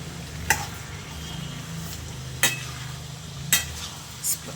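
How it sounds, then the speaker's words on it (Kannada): Mixed vegetables stir-fried in a kadai, a spatula scraping the pan in a few sharp, evenly spaced strokes over a low, steady sizzle. "ಒಂದು 2-3 ನಿಮಿಷ ಸ್ವಲ್ಪ ಹಿಂಗನ್ನ ಈ ಥರ ಫ್ರೈ ಮಾಡಿ ಚೆನ್ನಾಗಿ."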